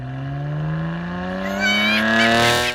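A BMW car accelerates hard, its engine note climbing steadily in pitch as it revs up, loud and close, then cutting off abruptly at the end.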